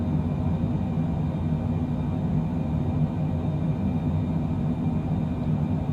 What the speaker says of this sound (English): the airplane is nicely climbing